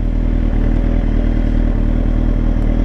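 A 2004 Kawasaki ZX10R sport motorcycle engine runs close by with a loud, steady, rumbling, clattering idle, heard alone.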